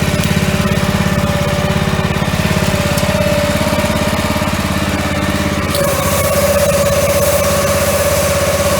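A van-mounted pressure washer steam cleaning machine runs steadily, its engine droning loud and close with a constant low hum and vibration, the pitch shifting slightly partway through, no talk.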